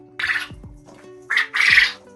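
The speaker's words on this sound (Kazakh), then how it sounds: "Иә қызым, бұл құс бөдене деп аталады." A quail gives two harsh, raspy squawks, close by, the second longer and louder after a short pause.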